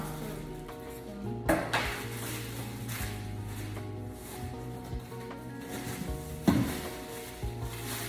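Pots, pasta spoons, soup spoons and other kitchen utensils being unboxed as housewarming gifts, with repeated clanks, knocks and rustles of handling, a couple of sharper metallic bangs standing out over low room tone.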